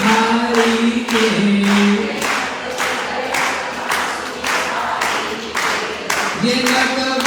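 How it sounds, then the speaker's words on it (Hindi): An audience at a Hindu devotional discourse in Houston claps along to a devotional song, loud rhythmic claps landing at a steady beat beneath a singing voice and harmonium-like tones. "देखता हूँ ताली में कितना जोर है"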